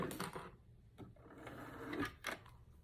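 A home sewing machine's presser foot and needle are lifted after backstitching a braided headband, giving a few close mechanical clicks and clunks with a soft motor hum beneath.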